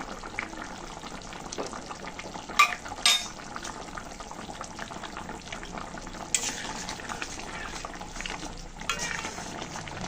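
A pot of tilapia fish curry with salt and cashew paste is stirred quietly, with a soft steady simmer and a few sharp utensil clinks against the pan.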